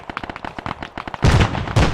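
Rapid gunfire in a tactical squad-based video game, first a string of sharp evenly spaced shots, then two much louder heavy bursts near the end.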